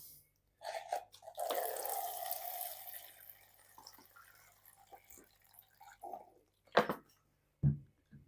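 Water is poured from a tap or jug into a plastic cup holding granite stones for tomato seedlings, a soft close trickle lasting a couple of seconds, followed by faint drips and a few light knocks.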